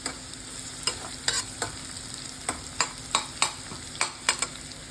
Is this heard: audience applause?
no